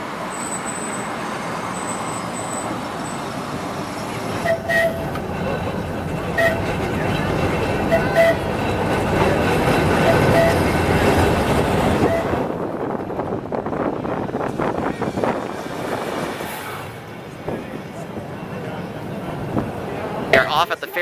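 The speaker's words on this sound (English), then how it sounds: "possibly the most famous tram in the MUNI fleet, the Blackpool boat tram" A Blackpool boat tram, brought from England and running on San Francisco MUNI rails, rumbles steadily along the street with wheel and track noise, traffic and wind, and voices talking over it.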